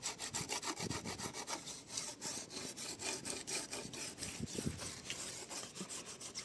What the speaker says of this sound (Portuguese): Eu fiz uma segunda aplicação aí e uma segunda etapa de lixamento.